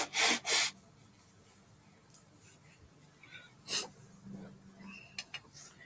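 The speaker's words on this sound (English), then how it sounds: "First, I'm going to blow my nose." Two quick loud nose blows close up, then quiet with faint rustling, another honking blow, and a few small sniffs and clicks.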